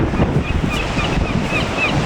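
Steady rushing surf of sea waves at the Sopot pier with strong wind buffeting the microphone, continuous and loud, with faint high cries of gulls in the background.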